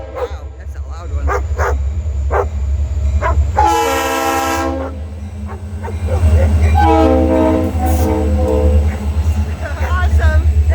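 A passing freight train sounds a loud, sustained horn blast in two long bursts over a steady low rumble of rolling cars, with a dog barking and people talking nearby.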